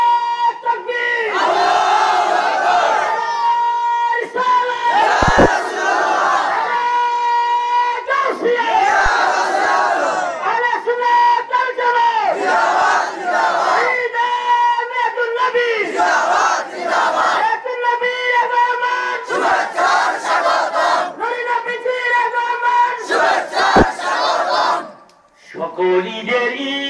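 A large crowd loudly chants takbir in repeated, rhythmic bursts of massed voices, sustained and powerful with brief pauses between shouts.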